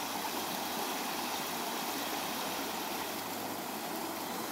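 Bear River flows at about 94 cubic feet per second, a steady, even rush of running water, soft and continuous with no voices.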